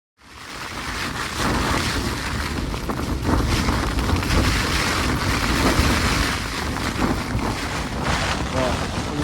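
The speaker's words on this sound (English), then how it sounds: "Woken up by the wind. I can tell it's shifted directions now." Strong wind buffeting a tent at a mountain campsite at night, a loud, continuous roaring rush with gusty swells and heavy blustering noise throughout, no voices.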